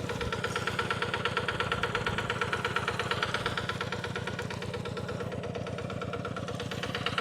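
A farm tractor's diesel engine chugs steadily at a constant pace while plowing a field, heard at moderate distance with no voices.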